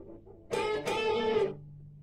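A 1976 Gibson SG electric guitar plays a short 70s rock lick, about a second of ringing distorted notes with a brief bend, heard alone and close with no talking.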